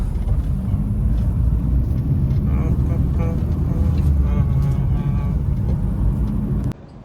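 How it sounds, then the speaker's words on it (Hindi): A car idles and drives with a steady low engine rumble and road noise, running continuously before cutting off abruptly near the end as it is parked. "और गाड़ी खड़ी करता हूँ"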